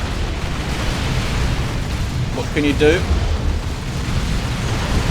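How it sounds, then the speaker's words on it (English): Plasma cannon fire in the Warhammer 40k: Dawn of War 2 video game, a heavy continuous rumble of battle explosions with bursts and booms, while someone briefly speaks over it. "Plasma cannon."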